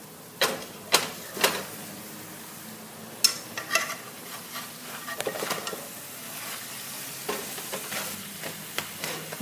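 Homemade flatbread cooks in a hot pan and is flipped with a fork. Sharp clinks and scrapes fall over a soft, continuous sizzle, close up and without talk.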